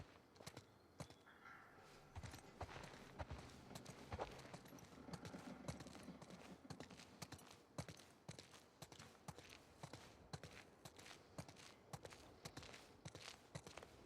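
Horse hooves clip-clop at a walking pace in The Last of Us Part II, a steady rhythmic patter of footfalls over ambient background noise, moderately close with no speech.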